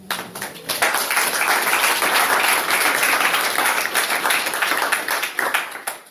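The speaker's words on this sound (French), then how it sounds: "Applaudissons pour le Seigneur" A church congregation claps together in praise during a French-language sermon, dense sustained applause filling the room after a brief quieter start, fading slightly near the end.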